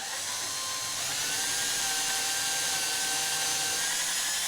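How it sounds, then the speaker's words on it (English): A power drill bores steadily through an Ikea Pax wardrobe panel, a continuous high whining grind held at even pitch and volume for several seconds, close up with no talking. "just take your time, go nice and slow,"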